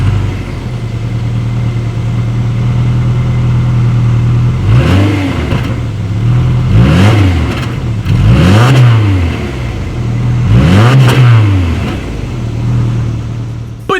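A 2019 Subaru Impreza's idling engine blips sharply several times, each rev rising and falling through the exhaust, loud and close with a steady idle between bursts.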